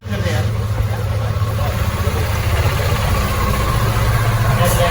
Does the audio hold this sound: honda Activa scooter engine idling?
yes